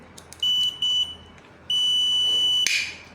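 A multimeter's built-in buzzer sounding as it is switched on, producing two short electronic beeps followed by a longer sustained tone that ends in a click, close and clear, with no talking.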